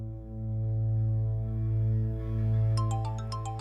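A phone ringtone chirps in a quick rhythmic pattern of short bright tones, starting partway through and heard over a loud steady low hum indoors.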